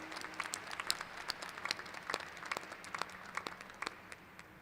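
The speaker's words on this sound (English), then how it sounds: "Yes, let's give yourself a round of applause." An audience gives sustained applause at a graduate school commencement ceremony. The dense clapping is steady and fairly faint, heard at a distance, with sharper individual claps standing out and no talking.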